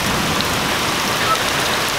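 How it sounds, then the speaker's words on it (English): Pretty big, marble-sized hail falling with heavy rain makes a steady, dense, close patter and clatter that stays constant throughout, with no voices. "There's some actually pretty big-sized hail dropping."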